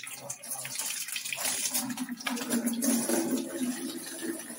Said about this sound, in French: j'ouvre la soupape de sécurité pour vider l'eau.